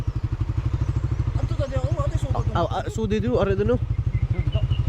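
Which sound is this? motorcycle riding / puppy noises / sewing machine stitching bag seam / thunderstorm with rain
motorcycle riding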